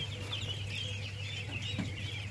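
Nine-day-old ducklings on an Assam farm keep up a continuous chorus of high peeping over a low steady hum, close and fairly quiet.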